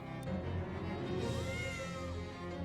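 Cat meows in a stick figure tentacle video game, a few drawn-out calls over a dense, steady game soundtrack, fairly loud throughout with no talking.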